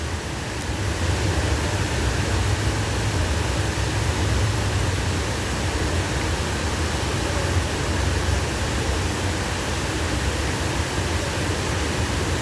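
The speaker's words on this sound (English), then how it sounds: "I could sit here all day and listen to these waterfalls, man. Just a beautiful sound." Steady, loud rush of the cascading waterfalls at the Ground Zero memorial in New York, a constant broadband roar with no pauses and no voices.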